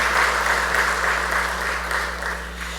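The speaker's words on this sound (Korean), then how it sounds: "So let's give a round of applause thanking God." Steady applause from a large church congregation at a retirement and installation service fills the room, even and sustained, over a low constant hum, tapering slightly as it ends.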